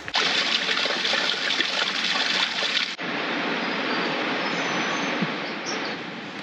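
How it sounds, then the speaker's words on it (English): Rushing water roars steadily from a waterfall in the woods on the Sunshine Coast, Australia, loud and constant, becoming slightly muffled halfway through. "We're getting close to the waterfall now. We can hear it just up ahead."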